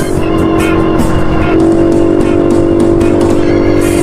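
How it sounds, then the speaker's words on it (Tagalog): A motorcycle engine drones loud and steady as it strains up a rising road, with a constant whining tone under rushing wind noise the whole way through. "Dito sa area na to yung hirap ng motor ko"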